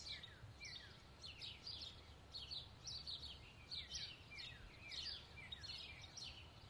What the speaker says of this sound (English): Birds singing their afternoon songs.